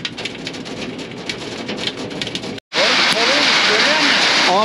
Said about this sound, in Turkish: Dolu yağıyor.